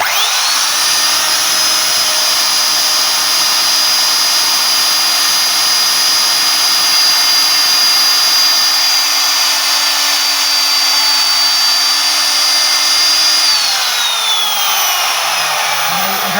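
A router machine bores a hole into wood while cutting a wooden drain, a loud, steady high-pitched whine that holds for many seconds before winding down near the end.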